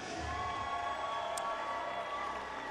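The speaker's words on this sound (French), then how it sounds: "Réaction de la foule quand on a présenté Barak" A boxing crowd cheering as boxer Éric Barak is introduced, a steady wash of distant cheers and shouts from a large audience holding at an even level throughout.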